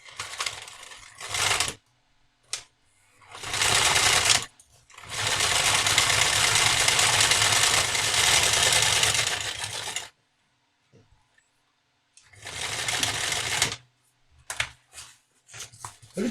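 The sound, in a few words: sewing machine sewing a zigzag stitch on a shoulder bag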